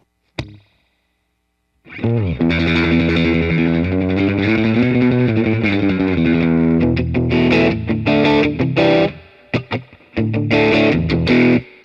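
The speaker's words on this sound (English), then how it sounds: "Here's the first preset now, the surf reverb one." Electric guitar played through a heavy surf-style reverb effect, chords ringing and splashing out after a brief pluck and pause, with choppy staccato bursts toward the end.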